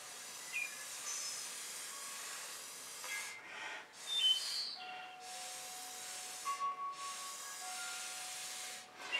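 A card swiping across freshly poured acrylic paint in fluid art, soft smeary rubbing and hissing strokes in a few separate passes, close and quiet, no talking.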